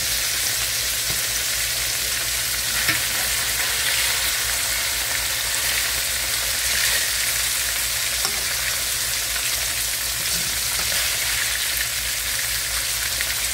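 Sliced squash fries steadily in a pan, seasoned with a seafood seasoning meant for shrimp, scallops and crawfish, giving a constant close, bright sizzle with faint crackles and no talking.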